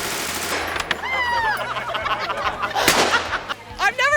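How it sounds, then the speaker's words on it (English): Two machine guns firing at a shooting range during a women's day event, sharp bursts and single cracks scattered over a few seconds, with people whooping and voices in between. "Now we have 2 machine guns."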